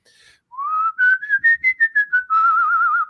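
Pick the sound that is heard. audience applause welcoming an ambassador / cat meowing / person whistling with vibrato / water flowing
person whistling with vibrato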